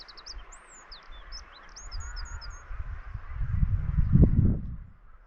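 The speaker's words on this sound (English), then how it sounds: "just the sounds of birds and the sea" Dawn on the Treshnish Isles by the sea: scattered high bird chirps and calls ring out early, over a low wash of surf that swells to a louder rush of waves before easing off.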